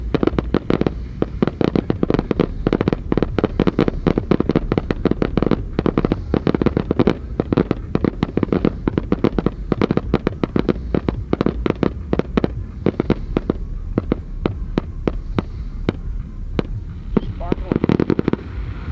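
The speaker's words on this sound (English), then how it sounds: "That's a lot of fireworks." Fireworks bursting during the man burn at Burning Man 2023, a relentless dense barrage of sharp cracks and booms in rapid irregular succession, loud throughout, with crowd voices mixed in.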